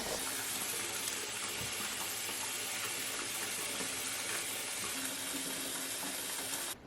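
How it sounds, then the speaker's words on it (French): Bath water runs steadily from a tap, a constant broadband hiss and gush at moderate level, continuing unbroken until it cuts off at the very end. "j'ai fait couler mon petit bain"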